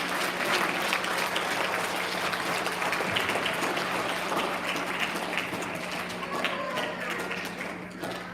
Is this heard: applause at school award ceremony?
yes